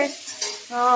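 Papad and fish frying in a pan, a brief soft sizzle with a stirring scrape, quiet and close.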